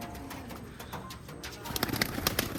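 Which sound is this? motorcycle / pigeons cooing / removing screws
pigeons cooing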